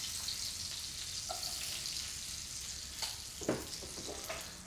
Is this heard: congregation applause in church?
no